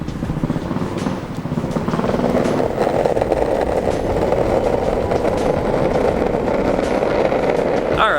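A Lou Board 3.0 compact electric skateboard accelerates in beginner mode carrying a rider of about 175 pounds, producing a steady rolling wheel rumble with a faint motor whine that builds slightly and holds for several seconds, close up.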